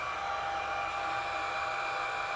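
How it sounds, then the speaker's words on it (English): Hair dryer on a low heat setting blowing over freshly painted plastic scale-model parts of a Lamborghini Countach, a steady close whir and airy hiss running unbroken throughout. "In order to speed the drying, Mike, we're going to use a hairdryer set on a low heat setting so we don't melt the plastic."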